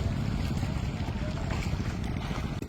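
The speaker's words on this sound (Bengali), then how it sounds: "আমরা যে ট্রলারে আসছি এটাও ইলিশের নৌকা।" A hilsa fishing trawler's engine thrums low and constant on open water near Bhasan Char, with wind rushing over it throughout.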